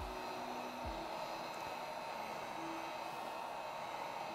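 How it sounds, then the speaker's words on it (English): A heat gun blows hot air over wet acrylic pour paint, a steady, even whooshing roar that runs unbroken at close range with no talking. "Grab my little heat gun."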